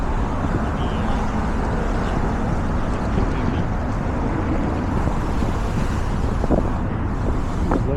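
Steady, loud wind buffeting the microphone beside the rough Hudson River in Manhattan, with a broad roar that may include engine or water noise underneath.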